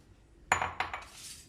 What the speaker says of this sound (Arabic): واقلب كده الزبدة عليها، واقلب البسكوت بتاعنا مع الزبدة.